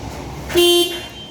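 A single short horn beep from a Toyota Wigo being tested sounds close by. It is brief and clear over a low background hum.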